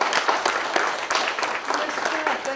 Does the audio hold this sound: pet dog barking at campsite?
no